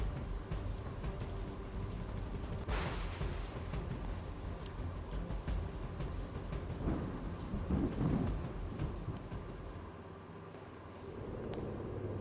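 Heavy rain pours steadily in Devbhumi Dwarka district, with rolls of thunder rumbling through the downpour; a loud crack near the middle and a passing car add to the constant hiss of rain on surfaces.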